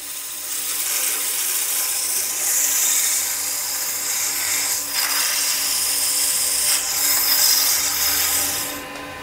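A wooden honey dipper spinning on a lathe is sanded with 400 grit sandpaper, giving a steady, close, hissing rub over a faint motor whine that swells slightly now and then.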